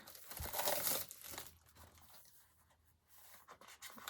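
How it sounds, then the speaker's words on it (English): Plastic wrapping peeled off a bundle of ruled-sheet notebooks: a loud close crinkling tear in the first second and a half, then softer intermittent rustling and crackling of the plastic. "Get the plastic off of it."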